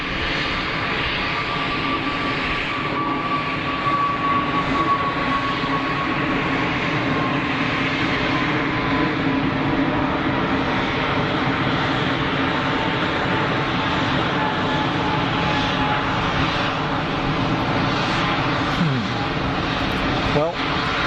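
Airbus A320neo jet engines roar at Geneva Airport in a steady, broad rumble with a faint howling whine running through it, continuous and fairly loud throughout.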